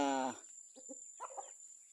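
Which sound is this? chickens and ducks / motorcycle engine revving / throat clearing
chickens and ducks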